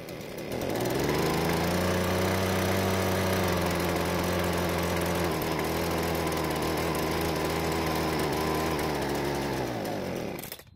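A cold small gasoline engine runs with its carburetor half choked, a loud steady buzzing drone that holds for about ten seconds before cutting out abruptly at the end.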